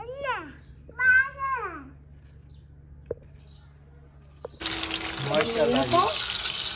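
Oil sizzles and crackles sharply as spices hit a hot pan for a tadka, following a stretch of children's babbling and chatter in a quiet room.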